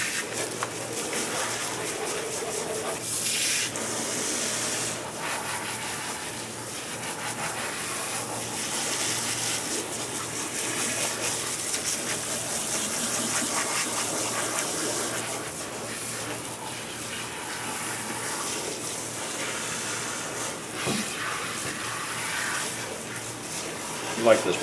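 Water running steadily over lathered hair during a hot-water rinse, a continuous broadband splash and gush that holds throughout, with a person talking over it.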